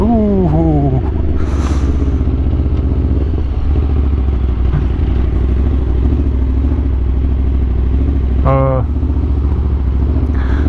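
An Aprilia RSV4 sport motorcycle engine drones loudly and steadily while riding, its pitch rising and falling through gear changes, with a sharp rev near the end.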